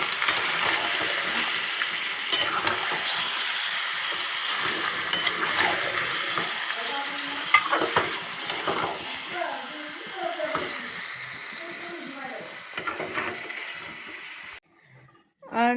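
Marinated chicken with onions sizzles and crackles steadily in a pan while a person talks over the cooking.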